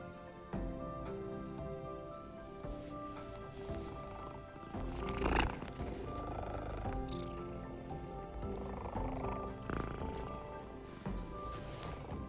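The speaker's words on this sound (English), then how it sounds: "Sorry if you can hear the cat purring" A cat purrs steadily and close up for several seconds, a continuous rumbling drone with a few brief louder rustles.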